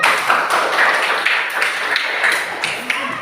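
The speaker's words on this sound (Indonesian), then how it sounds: "Berikan tepuk tangan untuk yang kedua." Primary school children in a classroom clap together for a classmate, a steady, busy patter of many small hands lasting a few seconds, close by and fairly loud.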